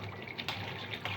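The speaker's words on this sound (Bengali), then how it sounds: "এবার একটু দুধ দিয়ে দেবো আর একটু ঘি দিয়ে দেবো" Milk is poured into a cooking pot, giving a short, faint, soft liquid trickle and splash.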